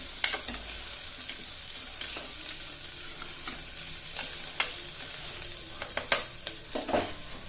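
Onions sautéing in a pan, stirred with a spoon: a steady soft sizzle with scattered scraping and tapping strokes, close and unbroken, with no talk.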